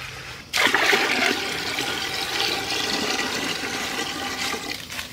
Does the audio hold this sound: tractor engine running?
no